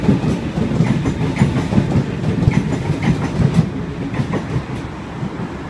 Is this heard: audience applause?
no